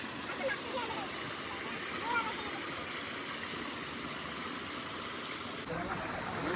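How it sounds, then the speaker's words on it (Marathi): Dhalki waterfall near Jamner in Jalgaon district rushes steadily as a broad, constant wash of falling and splashing water, close and even throughout with no pauses. "तर हा आहे डालकी की ढालकी काहीतरी आहे, ढालकी धबधबा"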